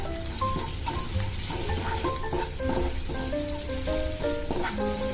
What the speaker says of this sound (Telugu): ఈ మసాలా అంతా కూడా ఈ ముక్కలకు పట్టే వరకు బాగా మిక్స్ చేసుకోవాలి.